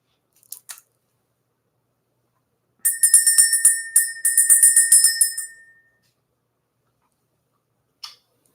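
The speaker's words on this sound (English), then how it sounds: "Let's go ahead and ring the bell." Bright metallic bell strikes ring out in a quick cluster of repeated hits, with a couple of faint taps before and one after, in an otherwise silent room.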